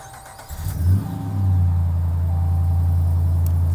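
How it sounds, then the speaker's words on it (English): A 2013 Ram 3500 SLT Crew Cab 4x4 pickup starts by remote start, a brief cranking catch that swells into a loud, deep, steady idle rumble close by, with no talking. "To activate the remote start, all you have to do is press this button here twice, and the truck will get started."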